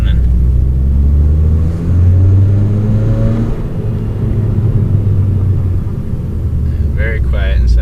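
A 2012-or-later Mitsubishi Lancer with a CNT axle-back exhaust revs loudly and close, its deep droning note rising and falling in pitch, with a faint voice near the end.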